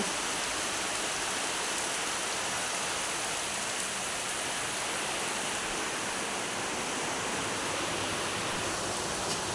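Steady heavy rain hisses without a break, a dense, even wash of falling water that fills the whole scene.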